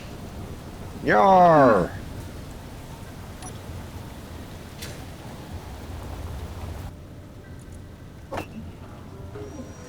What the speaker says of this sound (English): Darn rain!